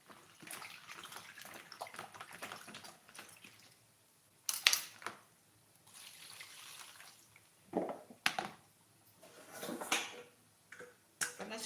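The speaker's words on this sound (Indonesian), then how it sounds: "keran airnya kecil keluar" A weak trickle of water runs from a partly clogged kitchen tap, thin and intermittent, with clinking pots and bursts of louder splashing; someone talks at points.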